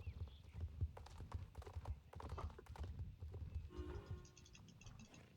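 Horse walking in a video game, steady clip-clopping hooves close by with a brief whinny, set over quiet ambient game sound and a faint chiming tone near the end.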